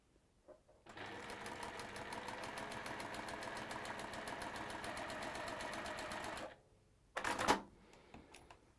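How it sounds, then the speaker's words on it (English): A sewing machine stitches a quarter-inch seam joining a fabric rectangle to a square, running in one steady, rapid hum for about five and a half seconds, then stopping before a short second burst of stitching. "1/4 inch seam, sewing the rectangle to the square."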